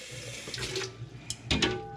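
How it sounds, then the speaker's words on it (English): Tap water pours into quart canning jars standing in a pot, a steady splashing run with louder bursts near the end as jars fill, close and moderately loud with no talking. "we're going to fill these halfway up with water, each one"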